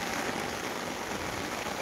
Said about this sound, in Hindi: अब समझ में आ रही ना बारिश कि हाँ भाई बारिश हो रही है